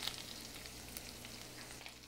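Chinese sausages fry gently over low to medium heat in their rendered fat, a soft, steady sizzle that stays faint and even throughout with no talking.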